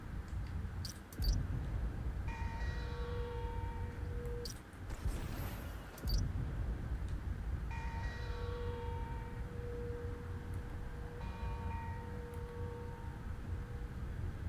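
Harbor bells in the Marvel's Spider-Man video game, repeated ringing tones that fade out in a few separate sequences over steady background noise.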